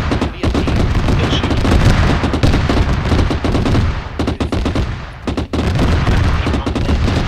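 Heavy gunfire in a modern jungle combat video game, a dense barrage of rapid automatic bursts and booms filling the scene, loud and continuous with brief lulls, no talking.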